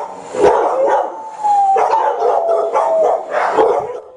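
A Siberian Husky at an animal shelter howls loudly and close in repeated drawn-out wails, broken by short yips and barks, with no voices.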